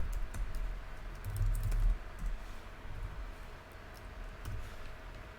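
Steady, soft clicking of a computer keyboard while Python code is typed, continuous keystrokes over a low background rumble with no speech.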